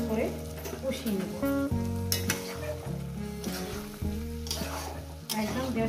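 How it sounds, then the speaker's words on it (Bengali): Okra, potato, tomato and poppy seed paste fry and get stirred in a pan with a steady sizzle and occasional scraping, while someone talks over the cooking. "এবার এটাকে সুন্দর করে কষিয়ে নেব।"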